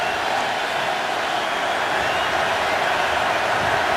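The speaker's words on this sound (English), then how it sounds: "here comes the crowd following the timeout" Loud, continuous roar of a stadium crowd at a Chargers at Bills football game after a timeout, a dense, even wash of noise with no breaks.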